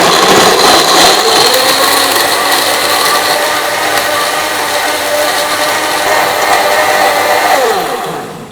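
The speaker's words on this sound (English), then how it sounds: "So I just turn it on to full power for 30 seconds." NutriBullet blender running at full power to grind nuts, a loud steady whirring roar that holds for the whole stretch, with a slight shift in pitch partway through, then starts to wind down at the very end.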